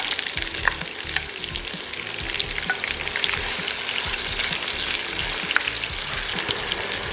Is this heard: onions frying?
yes